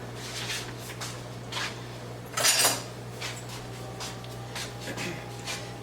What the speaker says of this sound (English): I'm going to whisk this up together.